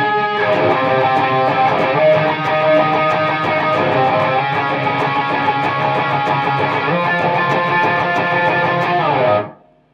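An electric guitar plays a riff of octave chords with light distortion in a continuous, even-volume passage for about nine seconds, then stops abruptly.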